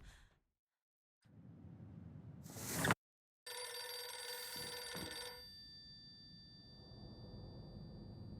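A telephone rings in the horror video game Silent Hill f, a bright, sustained ring in the quiet after a short breathy sigh, fading to a low ambient hum.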